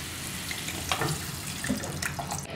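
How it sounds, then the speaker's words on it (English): Wine is poured into a pot of thick mussel broth, a close, steady liquid splash and trickle lasting a couple of seconds with small bubbling accents and no talking. "so I'm actually going to add some more wine, which doesn't hurt"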